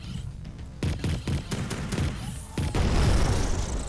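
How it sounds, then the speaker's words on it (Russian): Repeated sci-fi laser cannon blasts in a video game about cyborgs overrunning a planet, a series of sharp punchy shots in quick succession followed by a louder sustained burst near the end. "Лазерная пушка. Опробуем."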